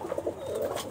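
A large Giribaj pigeon cock gives a short, soft coo, faint and close, lasting under a second.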